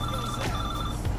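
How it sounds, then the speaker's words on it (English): A payphone with hardware attached rings in the video game Watch Dogs 2, a loud, continuous electronic telephone bell trilling steadily over game ambience. "I found a payphone with some hardware attached to it. It just started ringing"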